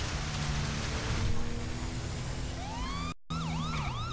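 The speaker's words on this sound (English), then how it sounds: "We're gonna put on the sirens to get through this intersection here." A police siren in LSPD First Response starts wailing over steady engine and road noise at an intersection, rising then sweeping up and down in quick yelps after a brief cutout.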